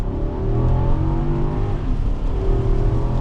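A 2024 Infiniti QX80, a big seven-seat SUV with a V8, accelerating hard with a loud, deep engine roar rising steadily from close inside, no talking over it.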